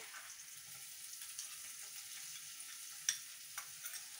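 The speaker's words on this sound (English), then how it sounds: "So now I would take some my onions and put it in that." Onions frying in a pan for steamed vegetable momo filling, a faint, steady low sizzle with a couple of soft stirring taps near the end.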